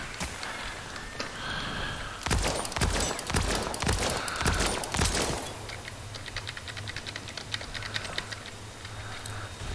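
Rapid clicked gunfire from a weapon in the video game Crucible, fired as a dense burst of sharp, evenly spaced shots that gives way to quieter ticking clicks.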